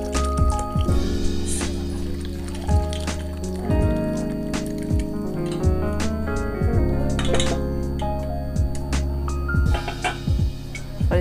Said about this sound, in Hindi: ये मैंने स्ट्रेनर रखा है और इसके ऊपर एक कपड़ा रखेंगे और इसे छान लेंगे।